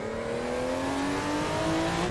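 A Porsche 935 Moby Dick race car in Assetto Corsa accelerating hard, one continuous loud engine roar with pitch climbing steadily through the rev range, close and alone with no talk.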